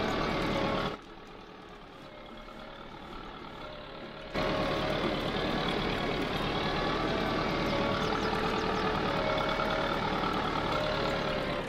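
A Sonalika 60Di tractor engine in Farming Simulator 22 drones steadily while pulling. It dips briefly quieter, then returns to a loud, continuous hum.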